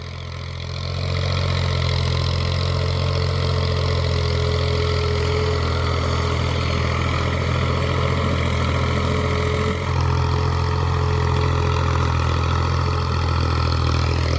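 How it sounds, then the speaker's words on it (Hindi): Tractor ploughing a field drones with a steady, loud engine hum and low rumble, continuous throughout with a slight shift partway through. "देखें जी ट्रैक्टर जो है वो हल चला रहा है"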